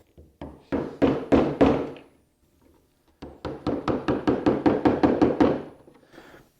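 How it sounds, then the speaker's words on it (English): A chisel chopping vertical cuts in wood to score the perimeter of a hand-cut mortise, a close, loud series of sharp mallet knocks: a few strikes, a pause, then a quick run of about a dozen evenly spaced blows. "So what I'm going to do is score my perimeter by making these vertical chop cuts."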